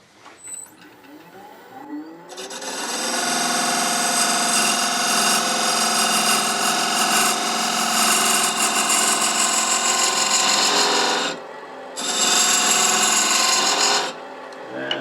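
A lathe-mounted woodturning tool cuts a wooden rook chess piece box, a loud sustained whirring scrape that starts after a quiet moment, drops out briefly near the end, then resumes.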